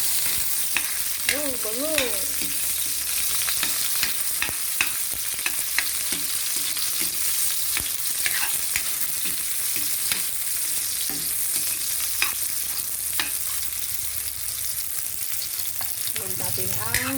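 Onion sizzling and frying in a pan while being stirred, a steady crackling hiss throughout with occasional utensil scrapes, close up, and a brief spoken exclamation partway through.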